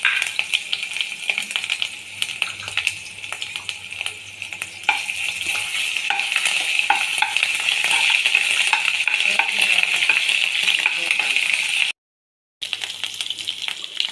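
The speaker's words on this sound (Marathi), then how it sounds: "तर आता तेल आपलं चांगलं गरम झालं. त्यासाठी सगळ्यात अगोदर थोडी अद्रक लसूणची पेस्ट टाकायची याच्यामध्ये." Ginger garlic paste dropped into hot oil in a pan, crackling and sizzling steadily close by with scattered spatters and stirring clinks, then a brief silent gap before the frying resumes, with no voices.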